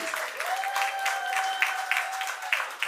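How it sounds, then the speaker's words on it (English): Audience applause fills a Brooklyn plaza crowd at a community talk, a steady close wash of clapping lasting throughout, with a thin sustained tone running beneath it. "give him another round of applause."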